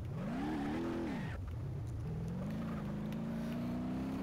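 BeamNG.drive car engine revving while driving: a steady, close engine drone that rises, drops sharply, then climbs again in a long rev, with no talk.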